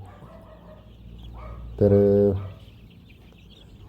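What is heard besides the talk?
Kaveri chickens clucking on a poultry farm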